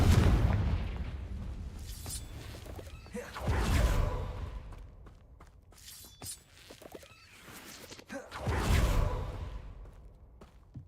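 Blasting-spell explosions from Hogwarts Legacy boom out three times, each a whooshing burst with crackling debris, separated by quieter stretches of ambient rumble.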